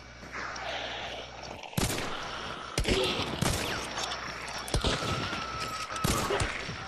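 Gunfire in the Hunt: Showdown video game, several sharp loud shots spaced irregularly over a few seconds, including what sounds like fanned revolver shots, with busy game ambience between them.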